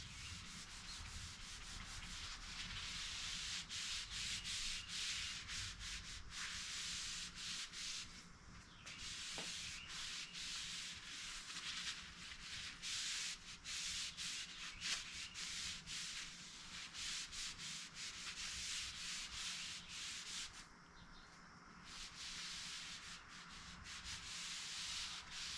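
A napkin soaked in tung oil is rubbed along a wooden Comanche-style short bow in steady back-and-forth strokes, a soft continuous rasping hiss heard close and alone with small pauses between passes.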